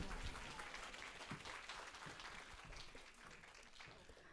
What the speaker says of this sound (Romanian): aplauze și pentru Alessia